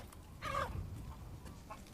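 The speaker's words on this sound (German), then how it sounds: "Ich höre Hühner." Chickens clucking in Resident Evil Village, a few short quiet clucks and one brief squawk at a moderate distance, with no voices.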